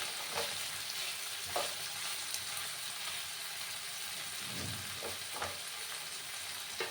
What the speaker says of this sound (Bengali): এবার আমি পেঁয়াজগুলোকে একটু খুব বেশি কড়া করেও ভাজবো না, মাঝারি আছে আমি পেঁয়াজগুলোকে একটু ভেজে নেব।